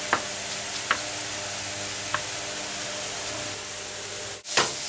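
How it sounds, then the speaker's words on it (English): Mushroom Kahlua sauce simmers in a pan with a steady, soft sizzling hiss, broken by a few faint clicks and a brief scrape of a utensil near the end. "the mushroom Kahlua sauce is simmering and bubbling and just looks absolutely fabulous"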